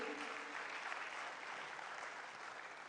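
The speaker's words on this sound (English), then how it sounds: "Please keep the applause coming." Conference audience applauds steadily throughout, a faint, distant, even patter of many hands clapping with no pauses and only a murmur of voices beneath.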